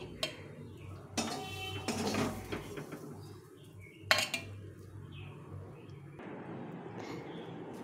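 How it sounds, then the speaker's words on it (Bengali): Fried beetroot is moved onto a plate, with a few distinct clinks and scrapes of utensil against dish spaced across a quiet kitchen background. "এখন আমি প্লেটে তুলে নেব।"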